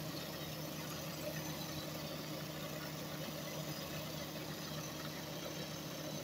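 A converted electric snowblower, built from a 1965 machine, runs with a steady, even motor drone and whirring hum that holds constant at moderate volume, with no voices.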